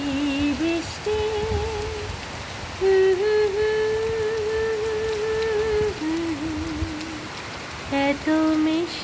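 Rain patters steadily beneath a sustained sung melody that carries on over the hiss throughout.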